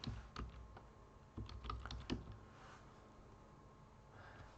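Keystrokes on a computer keyboard tapping out a short word, a quick irregular cluster of close clicks followed by quieter pauses, alone with no voices.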